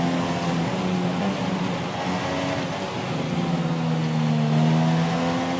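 An F1 car engine in F1 2017 screams steadily at high revs, its pitch dipping as it drops down through the gears and then climbing again, loud and continuous with no other sounds.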